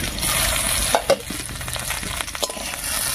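Bitter gourd and potato fry in a pan with a steady close sizzle, broken by a few scraping stirs of a spatula.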